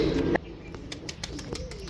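Released pigeons give soft coos outdoors in the evening, short faint calls scattered after a louder opening burst of sound.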